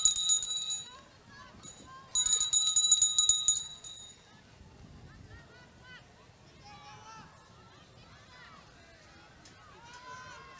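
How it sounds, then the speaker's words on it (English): A bell rung for the final lap of a girls' track race at a state track and field championship, clanging in two bright bursts at the start over a quiet outdoor stadium murmur, with a commentator talking afterward. "these girls will get the bell now"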